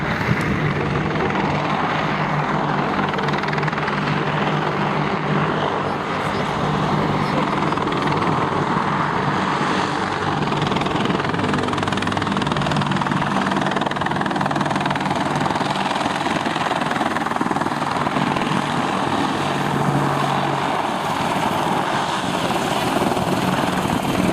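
A military attack helicopter's rotor and turbine roar steadily and loudly throughout, a continuous close drone with a faint rhythmic beat and no voices.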